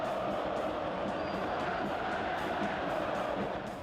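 A football stadium crowd roars after a goal in a Brazilian match, a dense, steady wall of cheering and shouting that stays loud and unbroken throughout.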